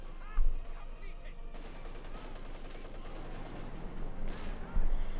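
An MG34 machine gun fires in Company of Heroes 2 in a snowy OKW versus UKF battle, with rattling bursts and sharp louder reports at the start and end over a steady din of combat.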